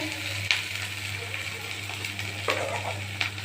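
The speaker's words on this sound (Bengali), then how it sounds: "এক চা চামচ লবণ দিয়ে এখন নাড়া দেব" Spice paste with salt being stirred in a pan: a steady low sizzle, with a spoon sharply clinking against the metal three times.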